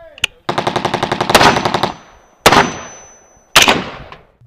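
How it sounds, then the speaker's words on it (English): Loud bursts of simulated machine gun fire from ATA Defense robotic targets on a shooting course at a Green Beret pro-am shoot: a rapid rattling burst, then two single sharp blasts with ringing decay. "That machine gun noise you hear is being generated by these targets."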